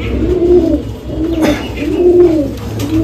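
A pigeon coos close by in repeated soft, rolling calls, three or four low warbling phrases in a loose rhythm against faint background noise.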